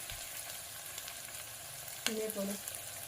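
Spices such as turmeric and coriander powder fry in a pan with a soft, low continuous sizzle, then a brief clink near the end.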